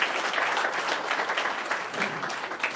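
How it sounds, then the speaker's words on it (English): Outdoor crowd at a presidential visit in Crabwood Creek, Guyana, breaking into sustained applause, a steady wash of many clapping hands at moderate distance with a few voices underneath. "Let us give the president a big round of applause."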